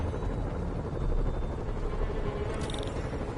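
A helicopter in a Spider-Man video game gives off a steady, dense rotor roar, fairly loud and constant throughout.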